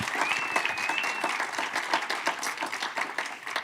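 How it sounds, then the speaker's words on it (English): Audience applause at the opening of an Erma Bombeck exhibit, a steady wash of many hands clapping that stays loud for its full length, with a faint voice briefly audible underneath. "How about a special round of applause for Christine and her team that made this all happen"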